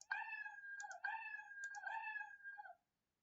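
Scratch cat meow sound effect played back in a coding lesson, three drawn-out electronic meows in quick succession, clear and close, followed by silence.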